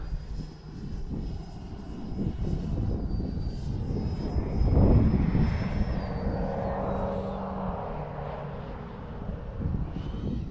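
X-Fly Sirius RC model airplane in flight, its motor droning steadily and rising in a whine as it passes close by, then fading back to a sustained hum.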